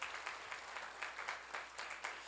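Faint, distant applause from a church seminar congregation during a Genesis sermon, an even wash of clapping with soft periodic swells and no talking.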